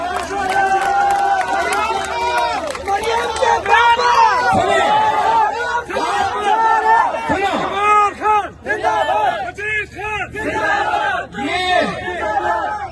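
A large crowd at a political rally chants slogans loudly and in unison, with rhythmic shouted phrases, cheering and babble overlapping throughout.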